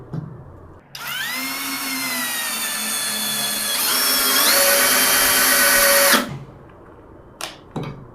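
A compact impact drill with a metal chuck tightens a bolt through a socket: a close, loud whining motor runs for about five seconds, rising in intensity as the bolt tightens, then stops abruptly, followed by a couple of short clicks.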